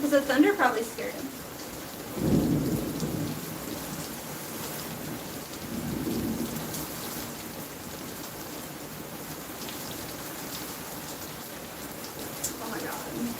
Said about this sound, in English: Because the thunder probably scared him.